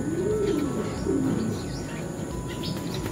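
Racing pigeons in a loft give low, throaty coos that roll on steadily and close by, layered over a constant murmur of the flock with no talking.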